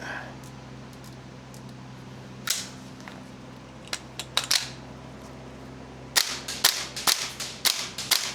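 Two MWS MCX gel blasters fire single shots, sparse at first and then in a quicker run of sharp, close cracks against a quiet indoor background.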